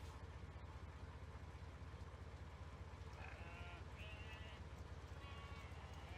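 Faint sheep bleats in the video game Farming Simulator 17, a few short calls in the middle, over a steady hiss of background noise.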